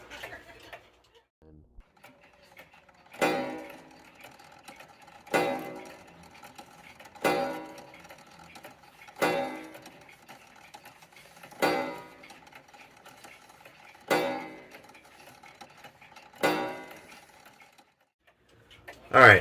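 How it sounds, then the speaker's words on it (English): A Seth Thomas 30-hour ogee clock striking on a faulty gong, eight evenly spaced clangs about two seconds apart, each with a harsh buzzing attack and a short rattling decay. "I'm gonna play a clip of what this clock used to sound like back in November when I got it."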